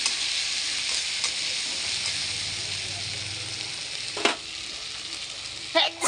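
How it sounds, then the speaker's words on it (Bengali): A paste of ground ginger and cumin fries in a pan with a steady close hiss of sizzling oil, broken by a few sharp scraping stirs of a spatula near the end. "এই মশলাটাকে এরকম ভালো করে ভেজে"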